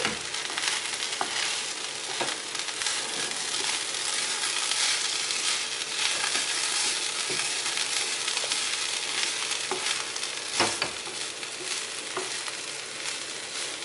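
Plantain peel and green gram stir-fry sizzling continuously in a pan, with a spoon scraping and knocking against the metal at irregular intervals, close and steady throughout.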